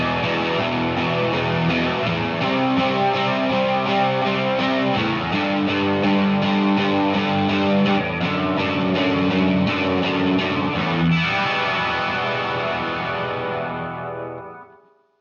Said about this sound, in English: I turned on a distortion pedal, and that gets my tone a little grittier